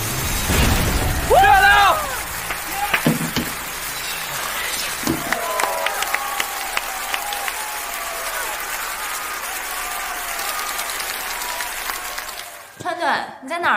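Loud, sustained applause and cheering from an arena crowd greet the Snow Wolf team winning a crucial match, with voices shouting over the clapping before it cuts off abruptly near the end.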